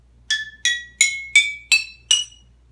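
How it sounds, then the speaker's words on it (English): Six clear, ringing taps of a spoon on water-filled glasses, evenly spaced, each bright tone slightly higher than the last and decaying quickly. "tapping the side of the glass with a spoon"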